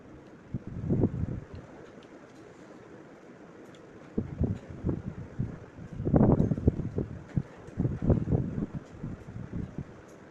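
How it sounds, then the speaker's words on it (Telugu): Strong wind gusts in heavy, rumbling bursts, buffeting loudly in waves with quieter lulls between them. "మస్తు మస్తు గాలి వస్తుంది."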